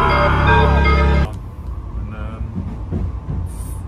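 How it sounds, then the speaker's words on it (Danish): Train noise on the journey home, a loud steady rumble for about a second that cuts off abruptly, followed by quieter carriage ambience with faint clatter and muffled voices in the background. "Vi nåede toget på vej hjem"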